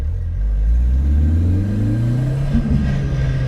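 A 600 hp Nissan S15 with a VVL SR22 engine revs up under acceleration on a first shakedown drive, giving a loud, steady low drone that climbs gradually in pitch, with gearbox whine mixed in.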